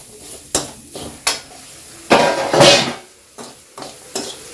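Pork and garlic fry noisily in a pan, with loud scraping stirs and clanks of a spatula over a constant sizzle.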